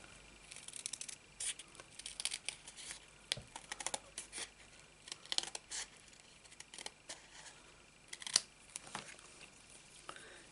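Scissors snip through a strip of paper for card making in a quiet room, a series of short, soft crisp cuts with small rustles between them, close and faint.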